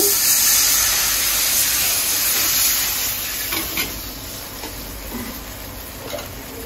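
Water hits a hot frying pan with onions, giving a loud hissing rush of steam at the start that gradually settles into a softer bubbling sizzle with a few faint clicks.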